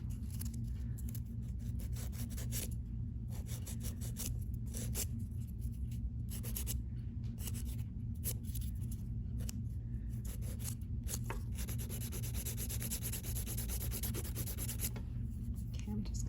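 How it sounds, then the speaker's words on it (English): Hand file rasping across plastic in rapid, even back-and-forth strokes, close and continuous over a low background hum. "My file is not getting hung up, it's not balling up with plastic."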